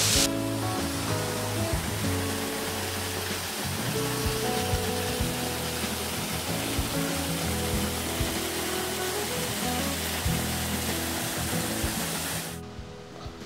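Waterfall at Estavayer, a steady, full-bodied rushing roar close by that stays constant for about twelve seconds before cutting off abruptly.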